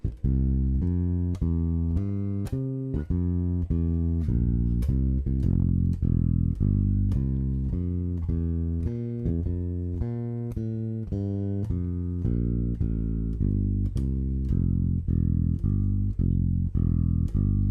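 A bass guitar plays a steady walking line, one low note after another in an even rhythm, alone and clear throughout.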